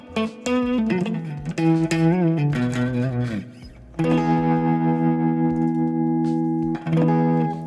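An electric guitar played through a wavy modulation effect on an Axe-FX III, clean notes and sustained chords shimmering with a wobbling, echoing character, no talking.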